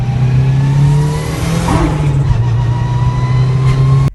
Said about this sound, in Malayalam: NFS Mostwanted നേരത്തെ പറഞ്ഞ M3 GTRൽ സ്പർ ഗിയേഴ്സ് ആണ്. അതുകൊണ്ടാണ് അതിന്റെ സൗണ്ടിന് ഒരു വൈനിങ് ഉള്ളത്.